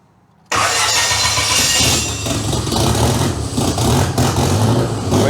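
A 4-cylinder engine swapped into a Mustang cranks and fires abruptly after silence, then settles into a loud, rough idle with uneven surges and a bit of revving, close by.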